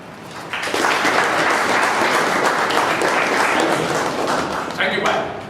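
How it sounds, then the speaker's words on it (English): An audience at a speech evaluation breaks into a warm round of applause, starting after a brief moment and then holding steady and loud, with a voice heard faintly at the start. "Big round of applause, friends."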